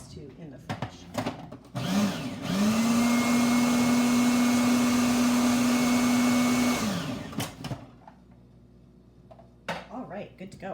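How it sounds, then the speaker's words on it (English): A food processor pulses guacamole with cilantro in one sustained whirring burst of several seconds, steady and loud, rising and falling at each end, with brief kitchen clatter before and after. "I have added my cilantro in here now and I've pulsed it."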